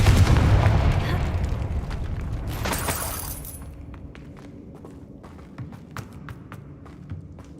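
A Confringo spell blast in Hogwarts Legacy booms loudly at the start, with a rumbling burst that decays over a few seconds into scattered taps and quieter game ambience.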